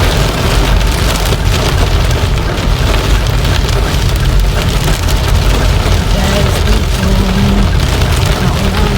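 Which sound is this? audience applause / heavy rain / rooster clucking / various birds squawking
heavy rain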